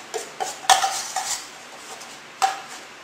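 Brown sugar being mixed in a bowl, heard as a handful of sharp spoon clinks and scrapes against the bowl's sides, close and clear, with quiet gaps between strokes.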